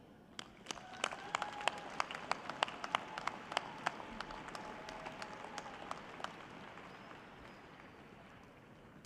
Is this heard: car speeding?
no